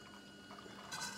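Liquid pouring into a bottle through an iTap bottle filler with CO2 flushing, a faint soft trickle that swells into a brighter, louder fill toward the end.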